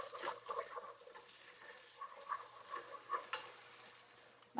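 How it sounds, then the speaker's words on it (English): A utensil stirs creamy parmesan Italian sausage ditalini soup with oregano in a pot, making soft, faint scraping and sloshing strokes in an irregular rhythm, close up, with no talking. "Sprinkle in some oregano in there. Give that a stir."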